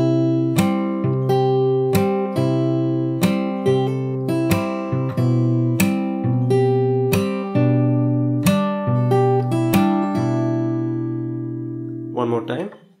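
A fingerpicked acoustic guitar plays the opening of a song in a continuous, evenly plucked pattern, close and moderately loud, ending with a short scrape and fade.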